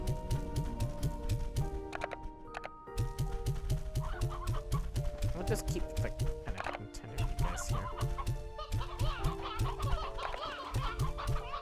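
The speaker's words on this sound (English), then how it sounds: "Wow, a lot of hens around here." Many hens cluck steadily in a rhythmic chorus in Slime Rancher 2, loud and close, with game music tones running underneath and someone briefly talking over them.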